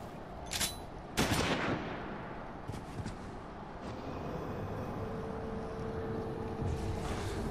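Video game gunfire in Final Fantasy XIV: a few sharp shots burst out early, followed by rumbling battle noise that continues steadily underneath.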